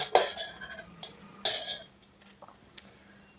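Fried peanuts are scraped from a pan into a bowl with a metal spoon, making two bursts of clattering, rattling scrapes and light clinks at close range, then a quieter pause.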